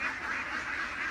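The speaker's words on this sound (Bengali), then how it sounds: "এগুলো আমাদের সবই হচ্ছে ডিমের হাঁস।" Egg-laying ducks on a farm quack continuously as a flock, a steady nearby chorus with no speech.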